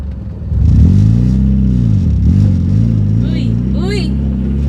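A manual-transmission car pulls away in first gear with too much throttle as the clutch comes up. The engine surges in a loud, wavering rev close by, and a voice speaks briefly near the end.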